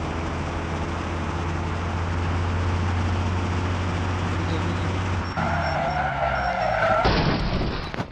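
A car drifts through city streets in a racing video game, engine droning steadily with a sustained, loud tire squeal that shifts pitch near the end as the slide changes.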